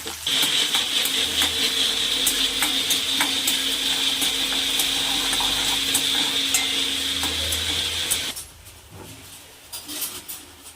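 Onions sizzle steadily in a hot pan with cumin, cardamom peel and spices for a vegetable palya, a loud continuous frying hiss for about eight seconds before it drops away to faint stirring and clinks.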